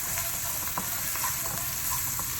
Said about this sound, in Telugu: ఈ పచ్చిమిర్చి చక్కగా వేగాలి.